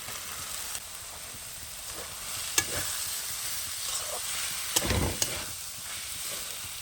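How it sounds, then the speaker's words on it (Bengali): Cauliflower pieces fry in a well-cooked spice paste, giving a soft, steady sizzle with scraping stirs and a few louder clatters, and no one speaks. "মশলাটা কিন্তু ভালো করে আমি কষিয়ে নিয়েছি বন্ধুরা এবারে ফুলকপিটা দিয়ে দেবো"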